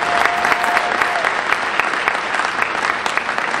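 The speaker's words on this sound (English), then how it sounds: "Let's really give Trevor a huge hand for what he does" Community choir audience giving a big round of applause for a helper at a spring concert, dense continuous clapping filling the hall, with a faint tone briefly at the start.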